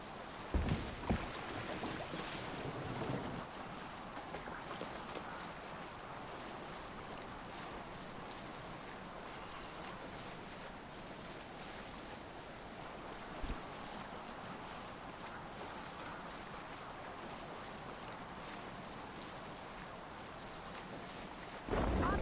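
Viking longship rowing at sea in Assassin's Creed Valhalla: a steady wash of wind and sea noise runs throughout, with a few brief knocks and splashes near the start and end, no voices.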